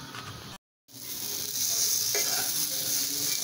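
Raisins sizzling in hot ghee while making milk vermicelli (shemai), a steady close frying hiss broken by a brief silent gap, with faint stirring clicks.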